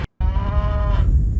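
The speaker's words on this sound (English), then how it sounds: "The moo is obviously not real." A cow gives one loud, drawn-out moo right after a brief silence, holding steady for nearly a second before fading into low rumbling noise.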